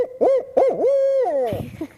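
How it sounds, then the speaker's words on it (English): A barred owl gives a loud, close series of deep hoots, rising and falling in a rhythmic pattern and ending in a drawn-out, wavering note. "You've got the mnemonic for barred owl, which is who cooks for you all."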